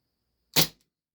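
A single sharp, loud crack from a Steyr L9-A2 CO2 airsoft blowback pistol firing once, a short snappy burst with a quick decay and no talking.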